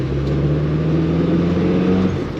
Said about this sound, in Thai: อัตราการเร่งดีอ่านี่เกียร์สอง